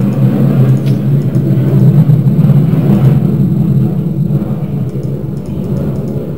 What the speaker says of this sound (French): des avions de chasse passent.